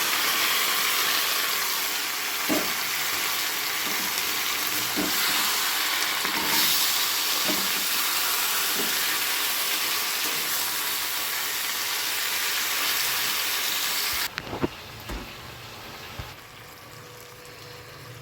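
Marinated chicken going into a pan of browned fried onions: a loud, steady sizzle with a few soft clinks from stirring, settling suddenly into quieter frying near the end.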